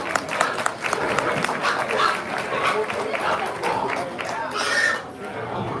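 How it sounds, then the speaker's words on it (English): Audience at a hog show clapping in a loose, continuous round of applause, with chatter and movement mixed in throughout and a brief surge near the end. "let's give them all a big round of applause as they go back"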